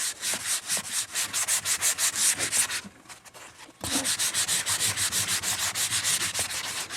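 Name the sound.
sanding a wooden gun stock with sandpaper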